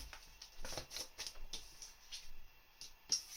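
Tarot cards are shuffled and drawn for a pick-a-card reading, soft quiet riffles and flicks coming in short repeated bursts close by.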